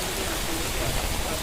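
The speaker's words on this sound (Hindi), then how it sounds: "झमाझम बारिश।" Heavy rain falls as a dense, steady hiss with no pauses, loud and close throughout.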